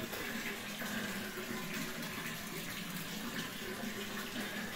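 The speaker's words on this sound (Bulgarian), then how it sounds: "Тук извира водата." Spring water flows out steadily at a chapel's holy spring, a constant gentle splashing and trickling rush, faint and close, with no one speaking.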